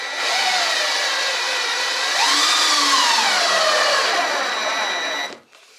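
A power drill drives screws into wood cripples under a window frame while building a chicken coop, a loud steady motor whine rising in pitch as it runs for about five seconds before stopping abruptly.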